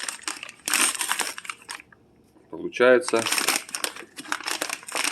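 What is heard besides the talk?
opening bag packaging a pressed firewood log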